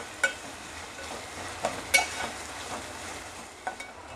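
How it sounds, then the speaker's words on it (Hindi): Bottle gourd sabzi with ginger-garlic paste cooking in a pan, a quiet soft sizzle broken by a few sharp spatula clicks and scrapes against the pan, with no talking. "अच्छी तरह से मिक्स कर लेंगे और 5 मिनट का इन सबको पका लेंगे।"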